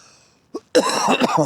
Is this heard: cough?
yes